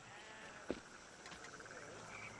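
A flock of sheep bleats under a steady outdoor background, with one sharp, louder call standing out and other faint overlapping bleats scattered through the rest.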